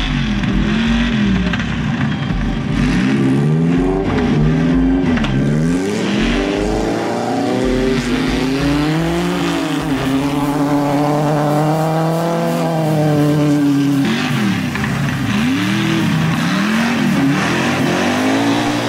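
A Hyundai race car drives a raceway course at Mill Pond with a loud engine that revs and falls through repeated gear changes, sometimes close and sometimes easing off, with no talk over it.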